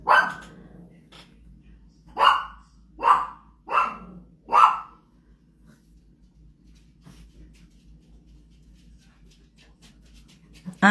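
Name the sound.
dogs barking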